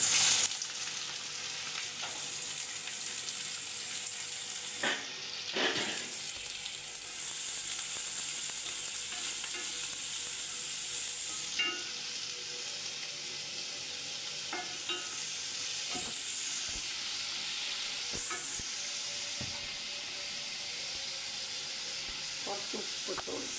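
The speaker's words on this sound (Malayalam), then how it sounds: "ആ സവാള നമുക്ക് വഴറ്റാനിടാം." Onions sautéing in a pan for chicken cutlets, a steady close sizzle running throughout with occasional scrapes and clinks of a stirring utensil, no talk.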